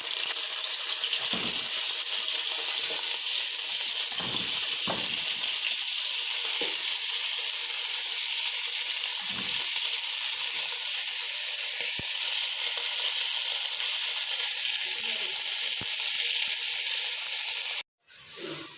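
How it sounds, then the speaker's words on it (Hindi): Chicken frying with cumin in a pan gives a steady, loud, continuous sizzle with occasional soft clicks and stirring scrapes, alone until it cuts off abruptly near the end. "इन्हें थोड़ी देर करते हैं फ्राई"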